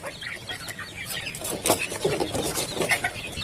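Chickens and roosters clucking softly at a distance, scattered short calls from several birds over a quiet farmyard background.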